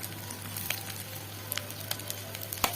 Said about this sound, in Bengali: মাছগুলো ভেজে নিচ্ছি, বাটা মাছ বা বাটনা মাছ বলে।